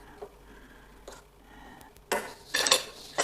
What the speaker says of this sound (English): So give our noodles a bit of a stir